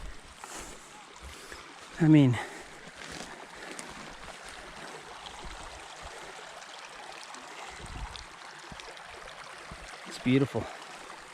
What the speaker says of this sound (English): we're really, really close to the waterfall that dumps over Ledge Lake.